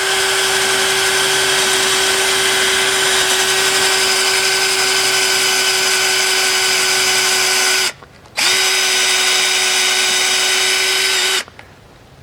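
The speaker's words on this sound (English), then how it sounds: "So I made some marks here. I'm going to put some holes." Power drill boring holes into a tough, weathered wooden branch, running loud and steady close by for about eight seconds, stopping briefly, then running again for about three more seconds before cutting off.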